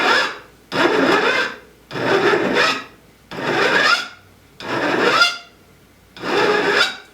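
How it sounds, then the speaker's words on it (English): A hand file rasps facets into the pyramid point of a steel throwing knife held on its spine at a workbench, five long, loud strokes in a steady rhythm separated by short pauses, with no talk. "now we're ready to file in the facets"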